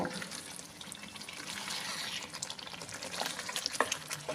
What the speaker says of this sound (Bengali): এবার আমি এরকম করে ঘুরিয়ে ঘুরিয়ে মিনিট 5 কষিয়ে নেব